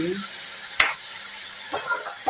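Fenugreek leaves fry in a pan, giving a soft steady sizzle with a couple of sharp scrapes of a spoon stirring, close by and moderate in level, with no talk.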